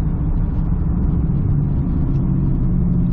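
Truck with a 5.9 Cummins diesel and an NV5600 manual gearbox fitted with a short shift kit, heard from inside as a loud, steady low engine rumble while downshifting.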